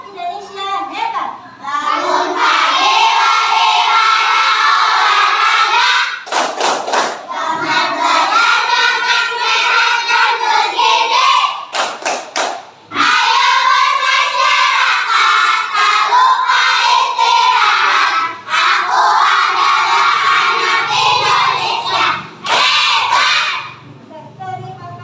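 Children in an Indonesian elementary school classroom chant loudly together in a rhythmic clapping cheer about seven good habits, several sustained group phrases broken by short bursts of sharp claps.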